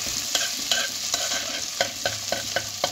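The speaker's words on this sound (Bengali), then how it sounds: "আদাটাকে নেড়ে চেড়ে ভালো করে একটু ভাজা ভাজা করে নিতে হবে" Ginger frying in a pan hisses steadily while a utensil scrapes and stirs it in regular sharp strokes, close and clear with no talking.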